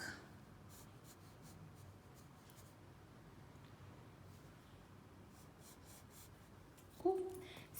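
A pencil sketches a tree outline on paper, a soft steady scratching and rubbing of graphite that continues evenly, close and quiet, ending with a short louder tap.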